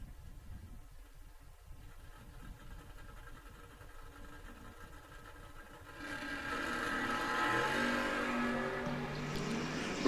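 Drag racing at a strip, a 1969 Camaro and a 1971 Vega wagon: a quiet idling rumble gives way around six seconds to a loud, rising full-throttle engine roar as the cars launch down the track.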